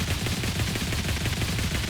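A quadruple crossbow turret skin in the Tower Defense Simulator video game fires in rapid, continuous bursts, a dense rattling stream of sharp shots heard alone at moderate volume.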